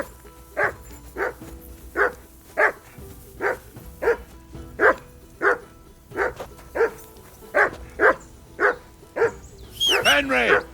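A dog in Kingdom Come Deliverance 2 barks over and over in a steady rhythm, about fifteen sharp, close barks spaced under a second apart, ending in a burst of excited whining yelps.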